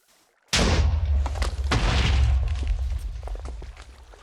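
TNT blast in Minecraft: a sudden loud explosion bursts out after a brief silence, its rumbling boom and crackling debris rolling on and slowly fading over several seconds, with no one talking.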